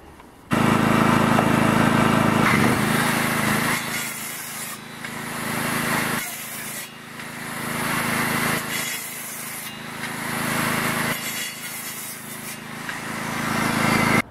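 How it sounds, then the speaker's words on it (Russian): A 1200-watt circular saw running off a 3 kW Inforce petrol generator makes a loud, continuous whining, rushing cut noise that rises and dips in several passes over a steady engine hum, with no talk. "первым на испытании у нас будет циркулярная пила, мощность 1200 ватт"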